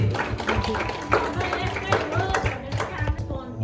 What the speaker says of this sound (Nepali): ताली बजाइदिउँ ताली